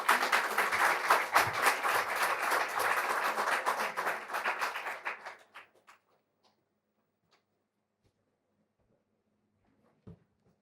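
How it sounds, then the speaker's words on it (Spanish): A seminar audience gives warm applause welcoming a speaker, a full crowd clapping loudly for about five seconds before it quickly thins to a few scattered claps and then near silence, with one faint bump near the end. "Recibimos a Viviana con un caluroso aplauso."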